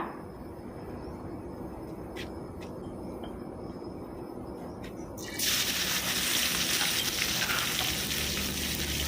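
Pounded chili and garlic hitting hot oil in a pan, a low crackle that jumps halfway through into a loud, bright, continuous sizzle as the stir-fry takes hold, with no voices.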